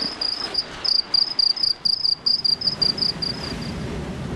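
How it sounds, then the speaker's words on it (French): Grasshoppers chirp aboard an ocean racing sailboat in rapid, steady bursts, a bright high trill pulsing over low background rumble, close and fairly loud. "Pas grillons, sauterelles."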